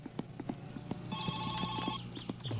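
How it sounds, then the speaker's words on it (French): An in-game telephone in My Summer Car rings with a sustained electronic bell tone for about a second, amid scattered knocks and footstep-like clicks. "Ah, téléphone."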